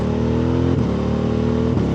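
A BMW F 900 R motorcycle accelerating at half throttle with quick-shifter upshifts on a country road, a loud close engine drone briefly dipping at two quick gear changes.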